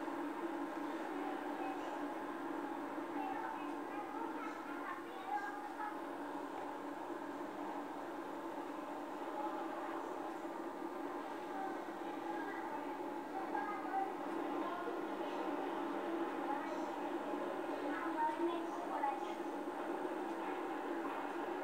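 A New York subway train rumbles steadily in a continuous, muffled low drone, moderately faint and unchanging, with faint clatter in the background throughout.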